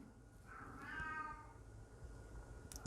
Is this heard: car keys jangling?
no